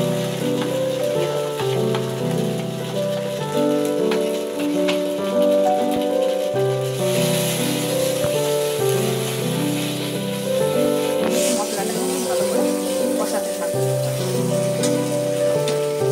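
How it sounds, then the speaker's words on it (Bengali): A turmeric and spice masala fries in a pan for a beetroot, carrot and potato sabzi, giving a steady, loud, even sizzle with a faint hiss throughout and no talking. "এবার এই হলুদটা দিয়ে এবার আমি মশলাটাকে কষাবো।"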